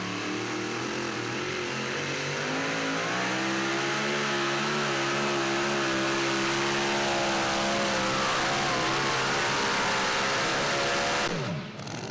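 A super modified two-wheel drive pulling truck at a Pro Pulling League event in Franklin, Kentucky, roars at full throttle in a long, loud, sustained engine howl whose pitch climbs steadily before cutting off abruptly at the end.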